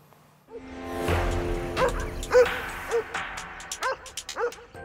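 Stray dogs barking and yipping during an attack on a father and son in the street, caught from a distance by a security camera: a run of sharp barks with whimpering cries between them, loud and irregular.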